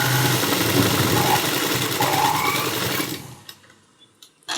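Sewing machine stitching a blouse front cup seam, a steady close mechanical whir running continuously for about three seconds, then stopping abruptly and leaving near silence with a few faint clicks and handling sounds.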